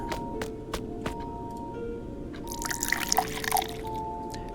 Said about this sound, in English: Now pour this elixir into the alembic.